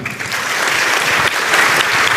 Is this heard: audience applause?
yes